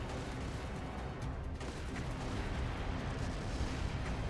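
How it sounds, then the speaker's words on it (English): Gunfire and battle noise in the video game Trails through Daybreak 2, a dense, quiet rumble of distant shots and booms running continuously without a break. "Confirming source of gunfire."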